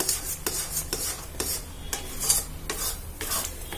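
Ashoka halwa cooking with ghee is stirred in a pan in steady, rhythmic strokes about twice a second. Each pass gives a sticky scrape and swish over a faint background sizzle, close up, with no voices.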